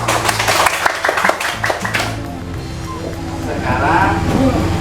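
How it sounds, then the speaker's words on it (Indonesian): Children in a primary classroom clapping for a classmate, a burst of quick, loud, irregular claps for about two seconds over a steady low hum, fading into room noise and faint voices. "Tepuk tangan dong,"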